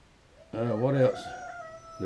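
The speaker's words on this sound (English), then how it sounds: "The rooster's hollering." A rooster crows once, a harmonic, wavering call rising and trailing off at moderate distance, with quiet background otherwise.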